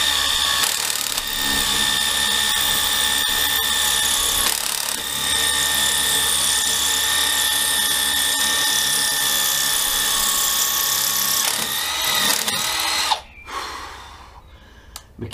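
Milwaukee 12V cordless drill driving into wood, a steady continuous motor whine with sustained load for about twelve seconds before cutting off abruptly, followed by brief quiet handling noise.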